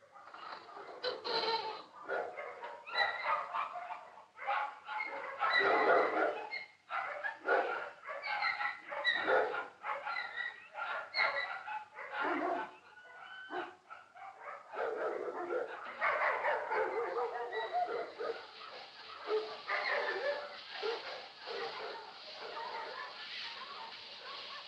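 A dog barks in short, scattered bursts through a stretch of continuous overlapping conversation in a 1952 Italian film scene, with the barks partly buried under the voices.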